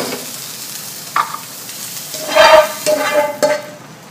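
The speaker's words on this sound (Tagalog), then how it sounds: "Ilagay ko na dito ang ating carrots." Carrots tipped into a pan of chicken breast menudo, setting off a steady close sizzle of frying with stirring scrapes and a few brief clanks, the hiss swelling midway and easing toward the end.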